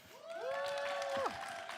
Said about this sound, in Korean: 와, 선수보다 더 큰 박수를 받는 거 팬클럽 같네요.